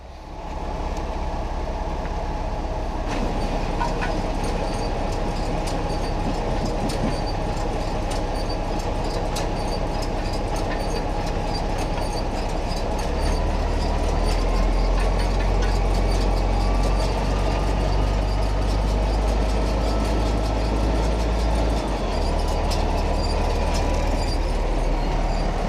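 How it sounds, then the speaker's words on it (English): A John Deere 578 premium baler runs empty on a dry run, giving a steady, loud mechanical clatter and rumble throughout, with a heavier low-end drive sound joining partway through. "So we're ready to start it now. Give her a dry run,"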